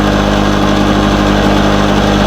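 A 1969 Lawn-Boy mower with its fuel shut off, running its carburetor dry, drones in a loud, steady mid-pitched two-stroke idle with constant vibration, close and uninterrupted.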